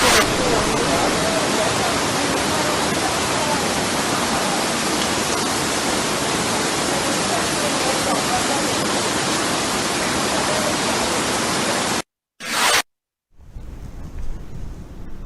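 Heavy rain pours down in a dense, steady roar for about twelve seconds, loud and close, then cuts off abruptly with a couple of brief bursts and near silence at the end.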